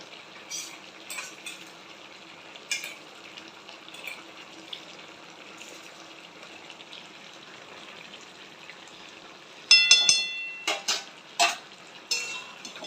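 Ground black cumin and green chili paste are mixed in a pan, mostly a faint quiet background with a few soft taps, then a cluster of sharp metal clinks and scrapes near the end.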